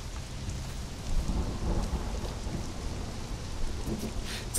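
Thunderstorm in Conan Exiles: steady rain hiss with low rumbling thunder rolling in the background, fairly loud and continuous, no voices.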